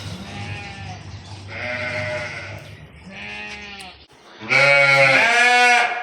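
Goats bleating in a livestock pen: several drawn-out wavering bleats, one after another from nearby animals, ending in a louder, longer cry, with no voices.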